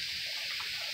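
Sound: sauce being poured into a pot for vegan lasagna

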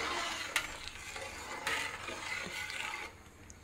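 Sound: stirring rice and lentils with ladle

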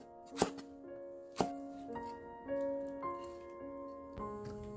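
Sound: chopping a handful of garlic chives

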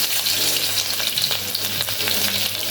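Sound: garlic frying in hot oil

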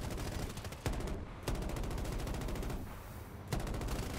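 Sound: gunfire shooting down aircraft in video game Battlefield 2042

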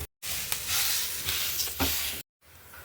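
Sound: rice roti dough placed on a hot griddle

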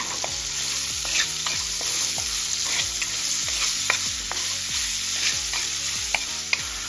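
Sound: garlic and ginger being stirred while frying

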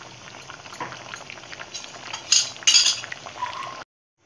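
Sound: ivy gourd (kovakka) boiling in water

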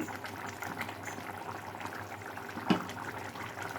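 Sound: chicken curry simmering in a covered pot

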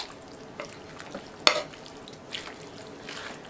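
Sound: stirring vegetable beef soup with roast and lima beans

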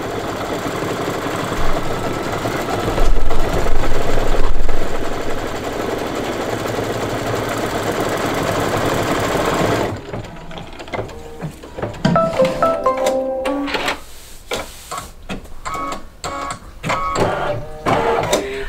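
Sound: embroidery machine stitching dark red leaves

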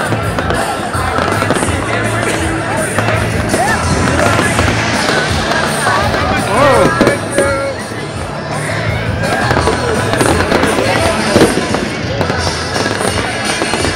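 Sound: fireworks show exploding on each side of building

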